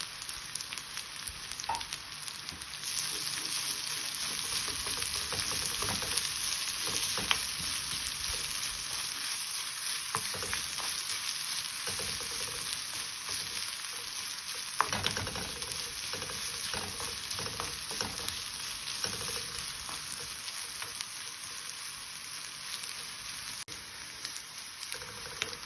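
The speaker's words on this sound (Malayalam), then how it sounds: "ഇനി നമുക്ക് ഇതിലേക്ക് തേങ്ങ ചിരകിയത് കുറച്ച് വറുത്തെടുക്കാം" Grated coconut fries in a pan for a Kerala pumpkin and bean erissery, giving a steady close crackling sizzle with scraping stir strokes throughout, and no voices.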